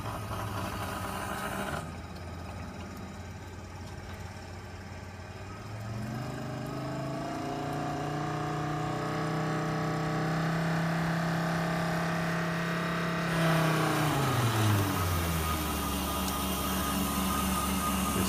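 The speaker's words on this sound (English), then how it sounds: "You see the pump is running smoothly now at 50 psi" A pump runs smoothly at 50 psi, a quiet, steady motor hum that rises in pitch as it comes up to speed, holds a long even tone, then drops near the end.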